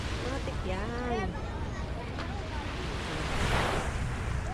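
Surf washing onto a hot summer beach, a steady broadband wash with a swell building near the end, mixed with wind buffeting the microphone and a voice talking over it.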